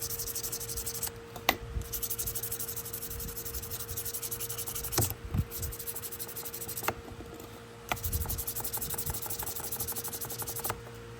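A celluloid camp knife handle being sanded and polished with fine grit paper gives a steady, close, soft rubbing hiss that continues almost without break, with a few short pauses and small knocks, over a faint background hum.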